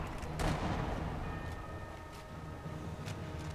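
Gunfire in the video game Sniper Elite V2: a dull, booming shot lands near the start, then fainter distant reports follow over a steady low rumble of battle ambience.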